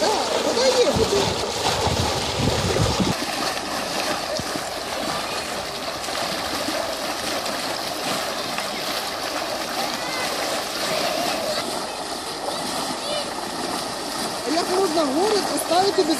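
Water gushes steadily from a burst pipe in the yard of a multistorey apartment block in Zhytomyr at Easter, a loud continuous rushing splash that runs under people talking throughout.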